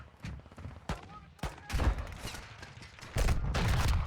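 Gunfire in Call of Duty Modern Warfare 2 during a sniping match: several sharp shots and bursts, the last second a denser volley, loud and close with faint talk underneath.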